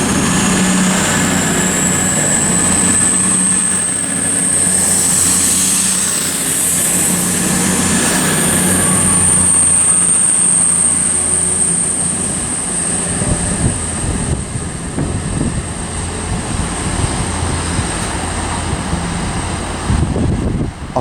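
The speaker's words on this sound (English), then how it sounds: "Departing as well is a 16:26 East Midlands Railway service to Nottingham." East Midlands Railway service to Nottingham departing Luton Airport Parkway station on the Midland Main Line, a loud sustained diesel engine roar with a high whine that gradually fades as the train pulls away.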